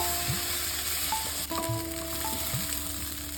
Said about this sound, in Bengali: ঠিক আছে চাল ভাজা।